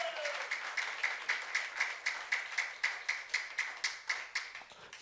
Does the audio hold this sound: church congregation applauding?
yes